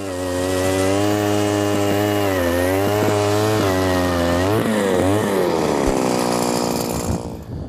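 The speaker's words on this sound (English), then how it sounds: "Power auger sure makes work of some short ice." Gas-powered ice auger drilling through lake ice at Hickory Grove Lake in Central Iowa, a loud close two-stroke engine drone that shifts pitch as it bites, then revs down and cuts off near the end.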